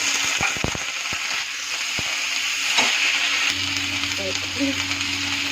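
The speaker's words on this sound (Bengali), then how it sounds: "এখন আমি এর মধ্যে মটরশুঁটিটা ছেড়ে দেব" Peas tipped into a hot pan set off a close, loud frying sizzle with a few sharp clatters at the start, the hiss running steadily on while a voice speaks briefly near the end.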